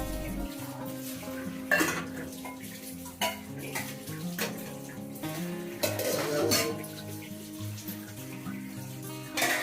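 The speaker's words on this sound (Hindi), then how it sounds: "थोड़े भी बर्तन होते हैं तो मैं साथ के साथ धोती चली जाती हूँ" Dishes, pots and utensils are washed by hand at a home kitchen sink, with repeated clinks and clatters of metal and crockery over a steady background of running water.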